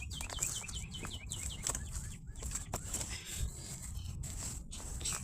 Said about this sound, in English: The birds are out, as y'all can hear.